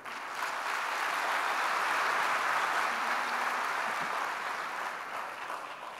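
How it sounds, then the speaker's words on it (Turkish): An audience applauds at an entrepreneurship support event, steady broad clapping that swells after a brief start, holds evenly, then slowly tapers toward the end, moderately distant. "kocaman bir alkış isteyebilir miyim sizden?"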